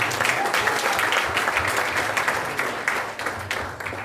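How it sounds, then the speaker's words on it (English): Dense, steady applause from an audience at a high school award ceremony honoring the 2021 boys lacrosse team, continuous clapping filling the room for about four seconds with a slight fade toward the end. "We can clap for the 2021 Boys Lacrosse."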